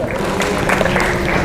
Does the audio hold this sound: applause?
yes